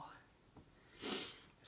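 A short wet sniffle and snort through the nose, close to the mic and fairly quiet, during a taste test of a Hotel Chocolat chocolate box.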